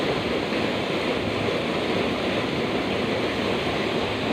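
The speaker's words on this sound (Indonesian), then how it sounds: "Arusnya kuat sekali kawan, dangkal emang airnya tempatnya." A strong, shallow river current rushing at a waterfall, a dense, steady roar of water heard up close and continuous throughout, with no talk.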